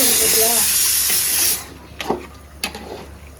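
A pressure cooker vents steam in a loud, steady hiss for about a second and a half before cutting off, followed by a few light kitchen clatters.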